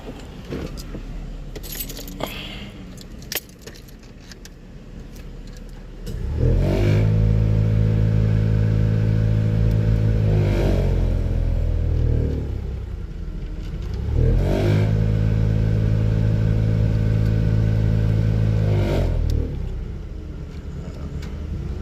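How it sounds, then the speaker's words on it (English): A 2003 Buick LeSabre 3.8 blower fan drones loudly in two long surges, a steady whirring hum rising then settling, with faint clicks and rustling between. "But the blower motor sounds like this."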